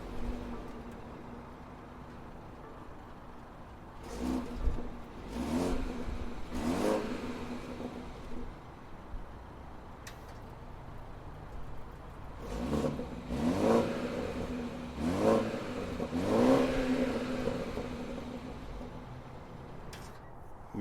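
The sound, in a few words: 2021 BMW 430i dual exhaust engine starting and revving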